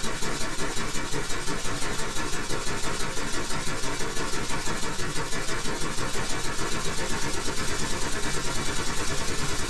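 Simulated steam engine from Steam Engine Simulator, pushed hard and running rough, a loud, dense chugging with a fast, even pulse that holds steady throughout, with no voices.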